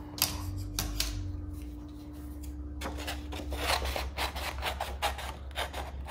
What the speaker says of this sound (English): when you're cutting, you wanna keep your scissors in the same spot, but just move your paper.